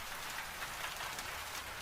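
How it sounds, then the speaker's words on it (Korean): Steady rain falls as a soft, even hiss of drops hitting a surface, continuous and fairly faint with no other sounds. "남은 시간은 온전히 빗소리와 당신만이 소통하는 신성한 시간입니다."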